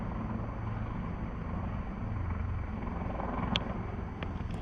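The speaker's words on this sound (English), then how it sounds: "A helicopter coming into land on the helipad on top of the Royal Hobart Hospital" A steady low helicopter rotor drone hangs in the distance as it comes in to land on a hospital rooftop helipad in Hobart, a constant mechanical rumble with a couple of faint sharp ticks near the end.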